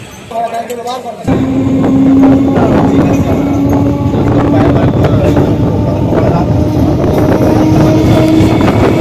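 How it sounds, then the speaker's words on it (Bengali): A train rumbles into platform 2 at Arambagh station loudly after a short quiet moment, its engine drone rising and holding, with a steady clatter and people talking faintly in the background. "আমাদের ট্রেন এখন 2 নম্বর প্ল্যাটফর্মে চলে এসছে।"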